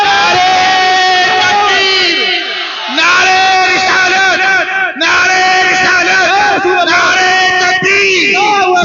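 A large crowd at a religious gathering shouts a slogan in unison, loud massed voices swelling in repeated bursts with short pauses between chants.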